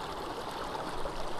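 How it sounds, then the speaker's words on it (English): Water heating in a GSI Halulite 1.1 L aluminium boiler gives a steady, close rushing hiss with soft bubbling and trickling texture, continuous and even throughout with no voices. "while that water is boiling"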